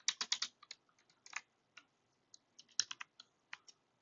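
Code being typed on a computer keyboard: light, crisp key taps close to the mic in quick clusters and scattered single presses, with gaps of silence in between and no other sound.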